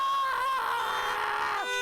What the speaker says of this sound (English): Oh wait, that's the alarm.